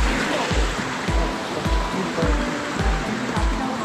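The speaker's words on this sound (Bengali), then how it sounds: "ঝর্ণার জল পড়ছে।" A mountain waterfall on the Sandakphu trek rushes in a loud, continuous roar, with regular dull thumps repeating about every half second beneath the flow.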